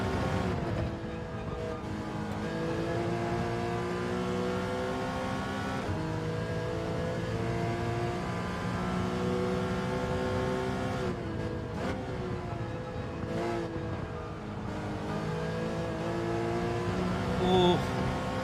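Race car engines in Gran Turismo 7 drone and rev continuously, rising and falling in pitch through gear changes as the car accelerates and other cars run nearby, loud and steady throughout.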